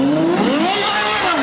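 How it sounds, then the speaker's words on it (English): Powerful supercar engines roar and growl continuously in Monaco, pitch sweeping up and down as they rev and pass nearby, loud and steady throughout. "the growl of supercar engines"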